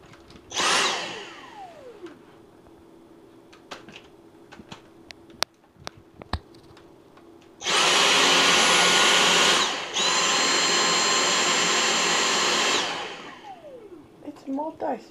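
Dyson V6 cordless vacuum cleaner motor whining loudly in two long bursts with a shift in speed between them, plus a brief shorter burst earlier and scattered small knocks in between.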